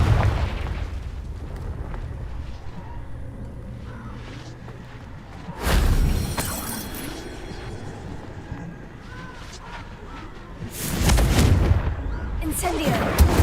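Confringo fire-blast spells exploding in Hogwarts Legacy, two loud booming bursts about five seconds apart over a low rumbling game backdrop, with voices speaking between them.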